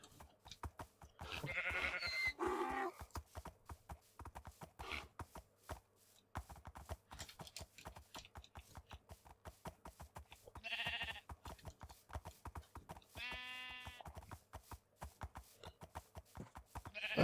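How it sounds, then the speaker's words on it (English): Donkeys in the video game Minecraft bray in a few short nasal bursts over a dense run of clicking game sound effects. No one speaks. "Come on, donkeys, hurry up."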